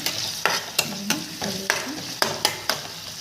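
Spoon stirring chopped coriander and curry leaves into vegetables frying in a pan, a steady sizzle broken by about eight sharp scraping knocks in an uneven rhythm, close and fairly loud with no talking.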